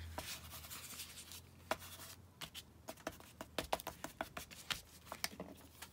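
Paint being smooshed around with a card on a painted book-page craft tag: scratchy, irregular scraping and tapping strokes, growing quicker and more clustered toward the end, close and fairly quiet with no talking.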